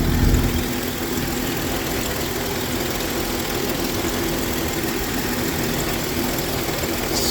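A Jeep XJ engine runs at a steady idle up close, its belt still turning the alternator, giving a constant, even mechanical drone with no pauses throughout.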